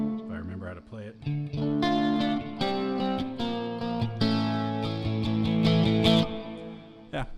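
Electric guitar played through a Spark amp with heavy reverb, a distorted riff of sustained chords and single notes ringing with a wash of echo, with a voice speaking briefly at the start.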